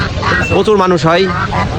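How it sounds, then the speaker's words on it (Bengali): Domestic ducks quack at a weekly Tuesday livestock market in Bheramara, Kushtia, a few short nasal calls rising amid a crowd's steady chatter and close talk. "চারিদিকে খালি হাঁসের ডাক শোনা যাচ্ছে।"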